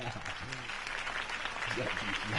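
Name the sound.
crowd applause in a video game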